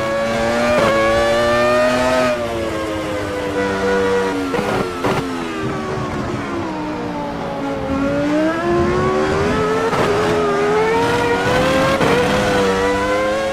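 Michael Schumacher's 2001 Ferrari V10 in the racing game AMS2 screams loud and close throughout, pitch climbing and falling through gear changes with steady high revs and brief shifts.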